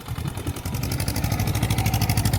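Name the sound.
tractor engine running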